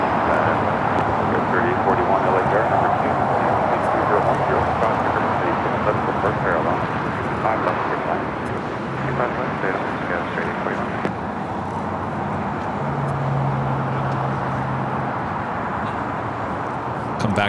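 China Airlines Cargo Boeing 777 freighter rolling down runway 25 left at LAX, a loud, broad engine roar that holds steady throughout while someone talks over it.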